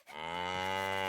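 A cow from the farming game Lords and Villeins lets out a single sustained, resonant moo, clear and alone, rising in at the start and holding steady to the end.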